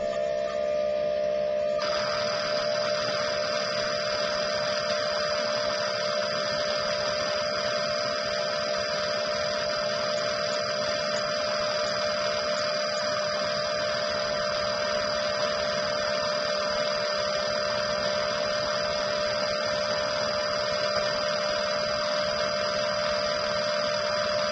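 Lucas and Bosch 30 lb fuel injectors fire side by side on a test rig at about 5000 RPM, giving a continuous close, even electric hum and fine buzz with no change throughout, and no talking.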